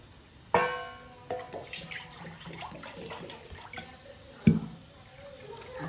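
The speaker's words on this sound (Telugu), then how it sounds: "ఇప్పుడు ఇంకొంచెం వాటర్ పోసుకోవాలి." Water is poured into a pot of Konaseema-style korameenu fish curry, with two distinct splashing bursts and a gurgling trickle between them, close by and with no talking.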